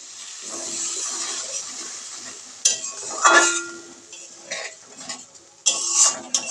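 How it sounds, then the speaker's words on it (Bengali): A bowl is rinsed and the water poured into a cooking pan in a home kitchen, heard as close clinks and knocks of metal with splashing bursts in short irregular bouts, no voices. "বাটি ধুয়ে জলটা এর ভিতরে দিয়ে দেবো"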